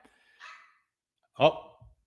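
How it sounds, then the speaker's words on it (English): A dog barks in the background, one soft yelp followed by a louder, fuller bark and a short trailing sound, each brief and spaced apart. "Can you hear that bark in the background?"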